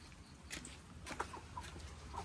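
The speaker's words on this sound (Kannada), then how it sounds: "ನನ್ನ ಕೋಳಿಗಳನ್ನ ಗೂಡಿಗೆ ಹಾಕಕ್ಕೆ ಬರಲ್ಲ ಗೈಸ್" Chickens near their coop give a few faint, scattered clucks in a quiet outdoor setting, with soft background noise between the calls.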